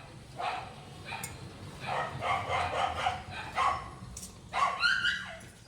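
A dog barks in a string of short, sharp yaps and bow-wows, spaced irregularly and fairly close, with a faint whimpering tail near the end against a quiet room.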